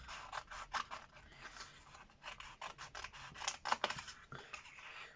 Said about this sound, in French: Donc, ils coupent bien, ces petits ciseaux.